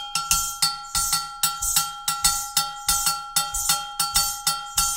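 Bright metallic bell strikes tap out an Agbekor pattern in a 3 feel, giving a lilting, evenly repeating cycle with soft low thumps beneath, played alone without voices, in a 24/8 style inspired by drumming from Benin.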